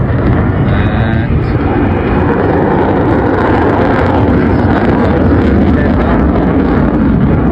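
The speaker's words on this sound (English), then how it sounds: "Nathan rolls the aircraft in a graceful barrel roll" A military jet flying a barrel roll at the Blackpool airshow makes a loud, continuous roar with heavy wind buffeting on the microphone. The roar stays steady throughout, with no clear rise or fall.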